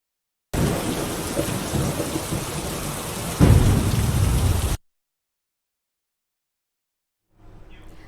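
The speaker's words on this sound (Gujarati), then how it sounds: "વરસાદની શરૂઆત થઈ ચૂકી છે." Steady heavy rain pours down in Ahmedabad, then a loud crack and rumble of thunder swells over it before the sound cuts off abruptly.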